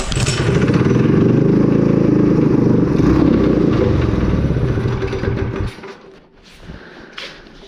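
A 212cc Predator engine on a motorized bicycle with a Mikuni VM22 carburetor runs loud and close with a rough, clattering roar for several seconds, then cuts down abruptly to quieter sputtering and rattles.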